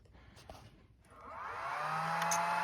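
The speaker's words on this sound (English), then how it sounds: "But I'm going to turn this mill one on." A milling machine motor powered through a VFD spins up from rest, its whine rising smoothly in pitch and growing louder over a couple of seconds in a quiet shop.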